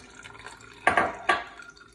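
Strawberry lemonade with pulp and seeds is poured into a fine mesh strainer over a pitcher, making two quick, close liquid splashes over a faint wet trickle.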